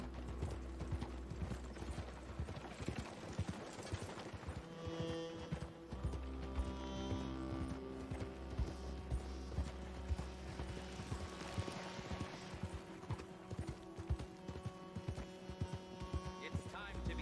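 Horse hooves clip-clop steadily in Red Dead Redemption 2, a continuous trotting rhythm over a low game hum and ambient background throughout.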